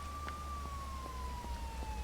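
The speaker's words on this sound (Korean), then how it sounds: "어, 경찰차네." A police car siren wails faintly in the distance, a thin steady tone drifting slowly downward over a low rumbling background.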